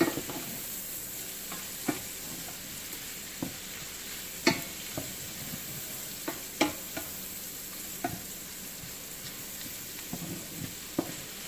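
Garlic and onions sautéing in butter for a spicy chicken stir fry, a continuous soft sizzle with irregular scraping stirs and taps of the utensil against the pan, close and fairly quiet.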